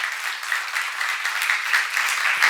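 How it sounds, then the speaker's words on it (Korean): Steady applause from a church congregation during a sermon seminar, dense and even clapping filling the room for a couple of seconds without any voices on top. "박수 한번 하세요"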